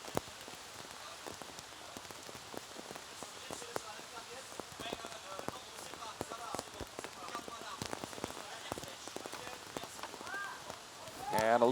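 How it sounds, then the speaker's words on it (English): Heavy monsoon downpour drums steadily on surfaces at an outdoor archery World Cup venue in Shanghai, a dense continuous hiss of rain with scattered sharper drops, while a commentator talks over it. "As you can see, the downpour. Monsoon season arriving early in Shanghai."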